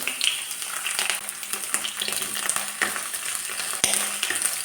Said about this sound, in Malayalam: ഇതിട്ട് ചെറുതായിട്ടൊന്ന് വഴറ്റാം